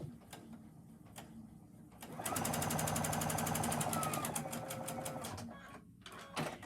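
A sewing machine top stitches across an apron pocket in one steady, fast run of motor whir and needle chatter lasting several seconds, preceded by quieter handling and a few short pulses.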